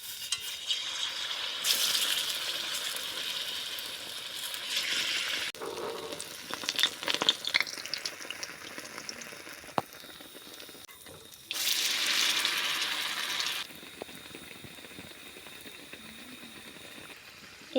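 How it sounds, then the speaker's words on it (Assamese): Bread chops frying in hot oil, a steady crackling sizzle that swells in bursts as pieces go in and are turned, with faint clinks of utensils and no talk. "আমি এতিয়া ৰেডি কৰি থোৱা ব্ৰেড চপটো তেলত দি দিছোঁ।"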